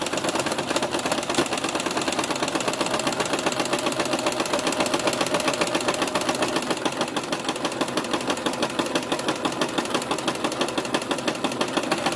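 A sewing machine runs a zigzag stitch on fabric with a fast, steady mechanical clatter of rapid needle strokes. It is close and loud, runs the whole time without a break, and no one speaks over it.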